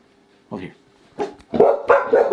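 A lively puppy barks several times, sharp close yaps that grow louder and come in quick bursts toward the end, with no speech over them.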